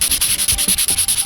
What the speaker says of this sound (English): So I'm gonna give it a good sand.